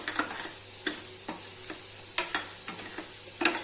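Gooseberry pickle sizzles gently in a pan while a spoon stirs it, with irregular clinks and scrapes against the pan over a steady low simmer.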